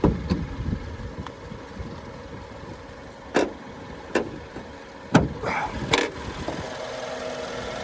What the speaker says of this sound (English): So there's that twin power turbo 6-cylinder engine.